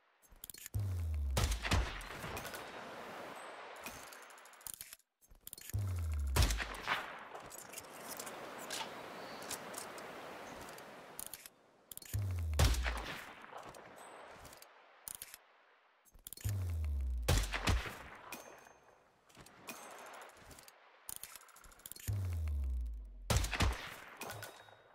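Sniper rifle shots in Hitman 2: Silent Assassin, heard as five loud sharp reports spaced a few seconds apart, each followed by a crackling mechanical tail.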